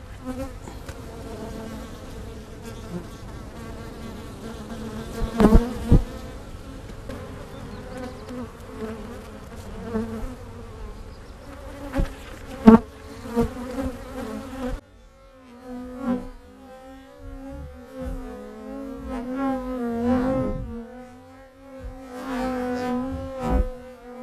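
A dense swarm of honey bees buzzing steadily and close, with a continuous droning hum that swells and fades as insects pass near.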